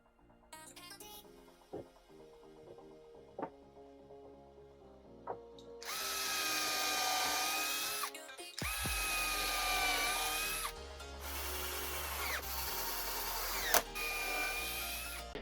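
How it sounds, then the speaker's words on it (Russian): A power drill bores pilot holes through a wooden pallet board before screws go in, with quiet handling clicks at first, then several loud whining bursts of drilling with brief pauses between them. "Обязательно засверливаю прикручиваемую доску, чтобы ее саморезами не раскалывало."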